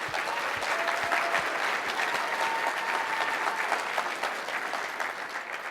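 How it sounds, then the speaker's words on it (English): A conference keynote audience at ChefConf 2019 gives a sustained round of applause for an award winner, many hands clapping in a dense, even wash that tapers slightly toward the end. "Let's give one more round of applause for Nathan"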